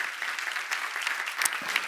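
A church congregation claps together in a dense, steady patter of applause, moderately loud and sustained, with faint voices underneath.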